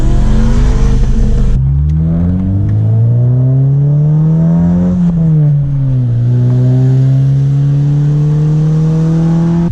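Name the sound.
Subaru WRX engine revving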